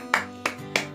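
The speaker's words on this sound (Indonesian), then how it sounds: "Tepuk tangan gokil." Three separate hand claps, crisp and fairly close, evenly spaced about a third of a second apart, standing alone without talk.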